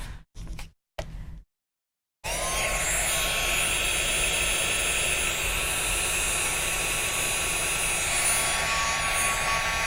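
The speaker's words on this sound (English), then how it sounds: "I'm going to get my heat gun out." After a few brief rustles and a short silence, a heat gun switches on and runs with a loud, steady blowing roar and faint whine that continues unbroken to the end.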